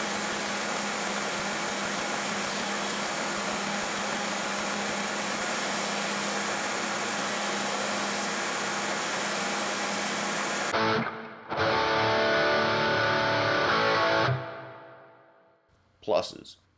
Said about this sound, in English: Next, they're trimmed on the grinder and the handle is shaped.